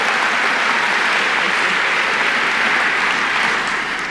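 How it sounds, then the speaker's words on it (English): Graduation ceremony audience applauds in a loud, sustained burst of dense clapping that eases slightly toward the end. "Give her a round of applause"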